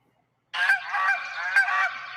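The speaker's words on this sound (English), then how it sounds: "they're actually very vicious Canadian geese" Canada geese honking in a loud, continuous flurry of harsh, overlapping calls that begins abruptly after a brief silence and carries on steadily to the end.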